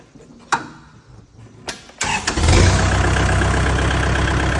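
A Kubota tractor engine starts cold. A few clicks and knocks come first, then the starter cranks briefly and the engine catches into a loud, steady rumbling idle as it warms up.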